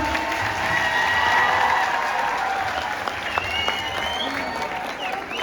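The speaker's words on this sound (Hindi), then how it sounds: "तो जोरदार तालियों से एक बार" An audience at a web series inauguration at JCD Vidyapeeth bursts into applause, strong at first and then thinning slightly, with a few whoops and voices mixed in.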